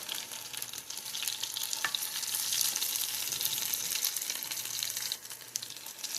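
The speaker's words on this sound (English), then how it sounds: "And I'll cook them for another 4 minutes on the other side." Mashed potato patties with vegetables frying in a pan after being flipped, a continuous close sizzle with brief scrape and stir noises, swelling slightly in the middle.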